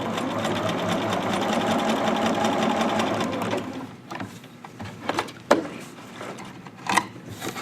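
A sewing machine bastes around the edges of fabric about 1/8 inch in, stitching in a steady continuous run for several seconds, then stopping into a quieter stretch with a few isolated clicks and knocks.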